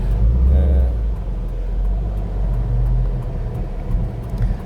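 Steady road traffic of cars on a street in Vientiane, Laos, a continuous low engine rumble of passing vehicles close by with no talking.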